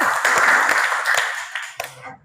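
A classroom group claps together in a brisk, dense burst of hand claps lasting a couple of seconds, close and loud, with no talk, before it fades out.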